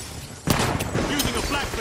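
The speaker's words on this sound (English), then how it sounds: "Popping a flashbang." A flashbang grenade goes off in The Finals video game. A sudden loud bang about halfway in is followed by a harsh, crackling roar of noise that lingers to the end.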